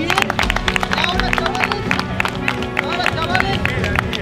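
A small crowd at a kart racing awards ceremony claps in a brief round of applause, the claps mixed with talking and general murmur throughout.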